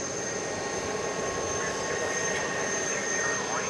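A UPS Airbus A300 cargo jet takes off at night from Dallas Fort Worth airport, its engines giving a steady, distant roar with a high whine throughout.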